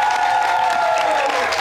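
A studio audience at an Eid special show applauds a legendary singer with loud, dense clapping and cheering that runs steadily under a host's voice and sustained music.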